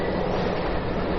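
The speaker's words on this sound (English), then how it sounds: "the best way to view them is via the spectacular Alishan Forest Railway, the jewel of Taiwan's narrow-gauge rail network." Train running on Taiwan's narrow-gauge Alishan Forest Railway, a mountain line built in 1912 for hauling cypress and Taiwania timber; a quiet, continuous rolling rumble heard briefly on its own.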